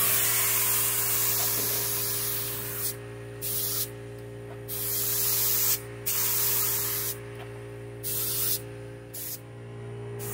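Hissing spray gun painting a Dodge Neon, with bursts of spray that start and stop repeatedly over a steady background hum, loud and close.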